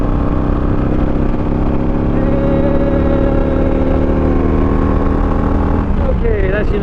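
A Harley-Davidson Iron 883 motorcycle rides in third gear, its engine holding a loud, steady rumbling drone that shifts pitch near the end, with a voice talking over it.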